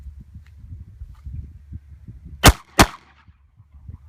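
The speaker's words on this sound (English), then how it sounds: "Fire 2 more rounds" Two sharp handgun shots crack in quick succession at an outdoor concealed-carry qualification range, loud and close, over low background rumble.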